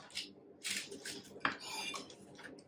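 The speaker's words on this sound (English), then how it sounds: "all I'm going to do is put it on another sheet pan" Chopped, pressed tofu goes onto a metal sheet pan in a kitchen, giving a few sharp clanks and scrapes of the pan with softer clatter between them, close and fairly loud.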